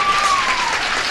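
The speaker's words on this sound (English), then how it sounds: "A spontaneous burst of unsolicited applause, folks." Live audience applause at a 1960s show, a steady dense wash of clapping held at even loudness for the whole short stretch, with a faint thin tone gliding across it.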